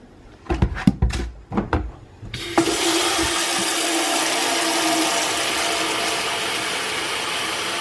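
After a few knocks and clunks, water gushes from a tap into a bucket in a loud, steady rush that lasts several seconds.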